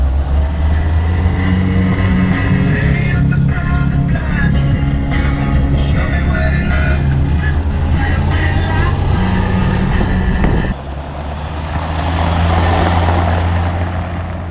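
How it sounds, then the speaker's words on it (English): A 1983 AMC Jeep CJ5 cruising in second gear with its doors off, steady engine drone and rushing wind throughout, with someone talking over it; the sound shifts abruptly near the end as the wind noise changes. "We got the doors off, so that's why you're hearing some wind."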